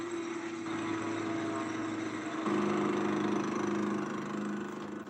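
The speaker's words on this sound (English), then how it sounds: "A man with an industrial lawnmower cuts long grass in Chuck's yard" Industrial lawnmower engine running steadily while cutting long grass in a yard, a continuous loud mid-pitched drone that shifts pitch slightly midway as the load changes.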